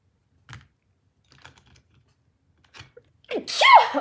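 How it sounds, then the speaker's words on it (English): A person sneezes once, loud and close, at the end of a quiet stretch broken only by a few soft taps and clicks. "You guys, I'm gonna sneeze."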